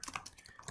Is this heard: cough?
no